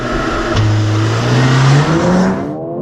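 A Mercedes CLA35 AMG launches hard in manual mode, its engine note climbing steeply and loudly through the revs, with a brief dip at a gear change before it pulls higher again and then cuts off.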